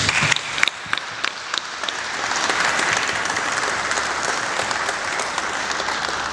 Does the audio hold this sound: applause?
yes